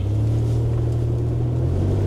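Third-generation Toyota 4Runner engine working off-road, a loud close low droning hum with a steady engine tone that shifts slightly near the end, no voices.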